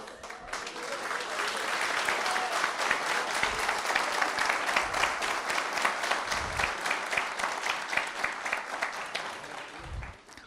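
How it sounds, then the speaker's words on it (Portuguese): Church congregation applauding during a service, a steady wash of many hands clapping for about ten seconds at moderate level, with no one speaking over it. "É para Jesus essas palmas"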